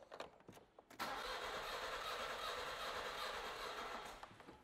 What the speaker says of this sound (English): Same thing again, foot on the throttle.